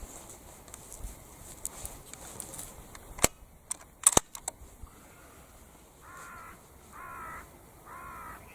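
A .223 Sako rifle fires at a crow in open farmland, with one or two sharp, sudden cracks standing out against quiet background, followed by several loud crow caws nearby.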